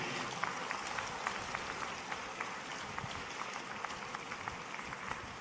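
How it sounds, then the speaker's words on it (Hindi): Auditorium audience in Indore on its feet for a standing ovation to the chief minister, a dense, steady wash of clapping hands held evenly throughout, heard from within the crowd. "सब लोग खड़े होकर स्टैंडिंग ओवेशन देकर, तालियां बजाकर माननीय मुख्यमंत्री जी का अभिनंदन करें"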